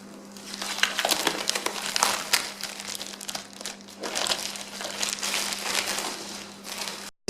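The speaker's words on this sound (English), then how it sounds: "These panels were sold in a plastic wrap like this" Plastic wrap crinkling and rustling as it is handled around glued oak panels, close and continuous with bursts of crackle over about seven seconds, alone with no talk.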